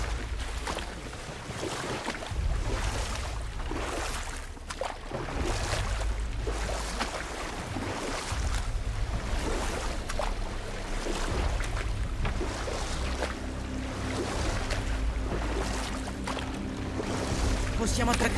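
Boat gliding across water in the God of War game, with a steady, continuous wash of water and hull noise running throughout under a loud game soundscape, with talk at times.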